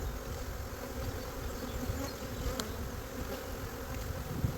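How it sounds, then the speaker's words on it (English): Honey bees buzzing around a nuc box hive, a dense, steady drone of many insects close by with no pauses and no voices. "I'm going to smoke some of these bees down inside this box"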